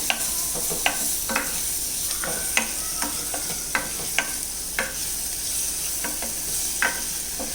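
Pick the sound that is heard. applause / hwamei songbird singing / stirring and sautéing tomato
stirring and sautéing tomato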